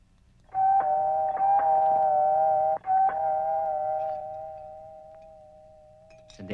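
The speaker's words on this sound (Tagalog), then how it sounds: "Doorbell mo." An electronic doorbell chimes in a steady sustained tone, briefly interrupted, then fading out slowly in a quiet room.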